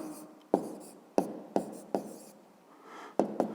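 A pen writes an answer by hand on paper during a math lesson, a close, quiet scratching broken by about six sharp taps and strokes at uneven intervals.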